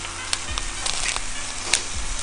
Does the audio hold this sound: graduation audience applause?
no